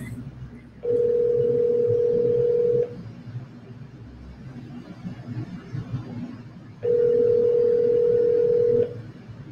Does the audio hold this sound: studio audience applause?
no